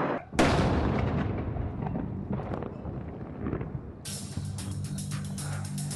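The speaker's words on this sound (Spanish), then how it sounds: "El sábado se dispararon cañones por toda Gran Bretaña en honor del príncipe" A cannon salute fired in honor of Prince Philip: a heavy boom rolls out early and rumbles away at a distance, followed later by a steadier, brighter outdoor sound with a faint hum.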